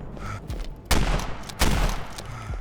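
Two bursts of rapid gunfire ring out, loud and sharp, over a steady background of game noise from Call of Duty zombie mode.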